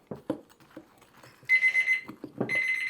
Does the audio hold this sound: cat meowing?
no